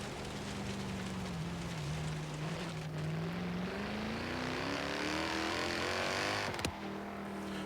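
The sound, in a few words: 1997 BMW M3 engine revving, from the video game Forza Horizon 3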